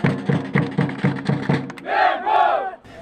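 Flamengo supporters crowd the street outside the Ninho do Urubu training ground in Rio, chanting in loud rhythmic unison before breaking into a sustained roaring shout that swells twice and then drops away.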